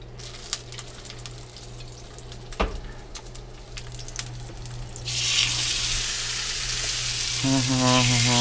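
Garlic drops into hot oil in a cast iron pan and breaks into a loud, bright, steady sizzle about halfway through, after a quieter stretch of kitchen handling and clinks, with a tonal hum underneath.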